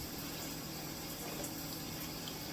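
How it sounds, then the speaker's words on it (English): Warm water from a bathroom shower running on high, a steady broadband rush that holds evenly throughout. "I got some warm water going over here. I got the shower going on high."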